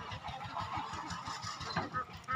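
A flock of ducks raised on a river gives a busy run of overlapping quacks and honks, close and continuous, with rhythmic calls layered over a soft outdoor background.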